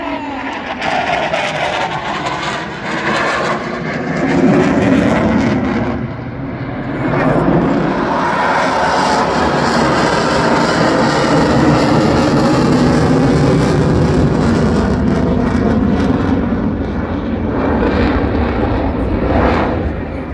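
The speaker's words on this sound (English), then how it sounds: "you guys can listen to these fantastic planes as they fly around with the air show." Military jets and other aircraft flying past at the Royal International Air Tattoo air show, a loud broad roar that swells and fades as they pass, with crowd noise and no talk.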